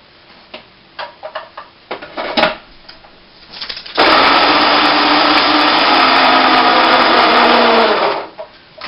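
Cinnamon and other dry baking ingredients are ground to a fine powder in an electric grinder. A few light clicks and taps of setting it up come first, then a loud, steady whir runs for about four seconds and stops.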